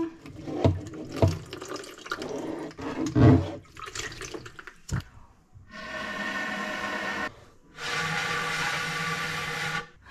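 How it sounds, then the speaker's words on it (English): Water gushes and splashes in bursts while a dishwasher that won't drain is being repaired, draining through a tube, with scattered clunks at first and then two longer steady streams near the end. "Like some water is coming out."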